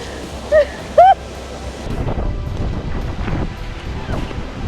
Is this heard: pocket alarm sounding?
no